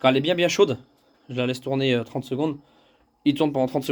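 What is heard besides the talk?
No everyday noise stands out behind the speech.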